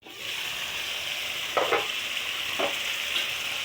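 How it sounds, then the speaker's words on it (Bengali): Sarpunti fish heads frying with spices in a pan for a bottle gourd curry give a steady close sizzle, with a few quick scraping stirs partway through and no talking. "এখন মাথাগুলো কষা সব মশলা দিয়ে দিচ্ছি"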